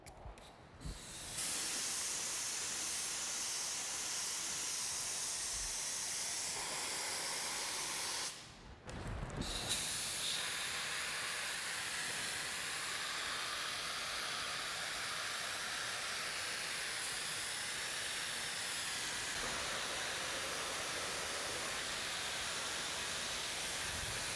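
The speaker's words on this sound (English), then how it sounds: "put it in the spray gun, shoot it" Steady hiss of a spray gun blowing compressed air while spraying a fiberglass hatch, close and loud, running almost continuously with one brief pause before resuming for a long stretch.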